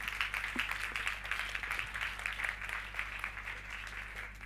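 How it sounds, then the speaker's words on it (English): An audience at a forum session applauds the moderator, steady even clapping heard from a moderate distance over a low hum in the hall. "I think we give a round of applause also to Daniel, who moderated this session very well."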